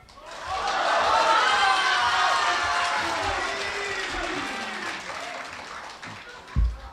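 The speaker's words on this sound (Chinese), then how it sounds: "再次给我们报以这么热烈的掌声" Sustained audience applause and cheering after a crosstalk (xiangsheng) act at a stage show, dense and loud for several seconds, then fading slightly, with a sharp thump near the end.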